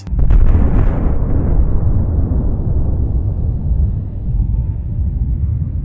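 A powerful bomb detonation that hits suddenly with a heavy blast, then rolls into a deep, sustained rumble that stays loud for several seconds and fades only slightly.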